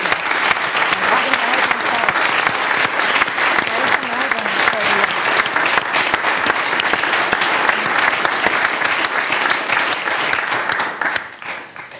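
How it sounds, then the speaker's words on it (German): A studio audience gives loud, sustained applause on a talk show, a dense even wash of clapping that runs for about eleven seconds before tapering off. "das ist ehrlich gesagt ein richtig dicker Applaus"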